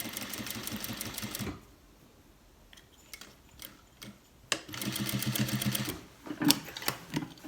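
A sewing machine stitches a folded waistband end on cargo pants in two loud, steady bursts of rapid needle chatter, separated by a quiet pause with a few small clicks.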